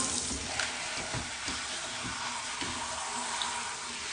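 Running water pours steadily over hair during a rinse while washing wavy hair, a continuous broadband splash close to the mic with no talking.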